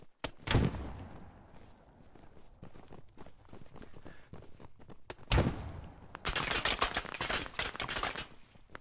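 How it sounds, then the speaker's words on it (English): Gunfire aimed at the player in the military shooter Operation Harsh Doorstop, heard as broadband bursts, a sharp crack near the start, another loud blast midway, then a dense rapid volley near the end, with footsteps and movement between. "Who is shooting me?"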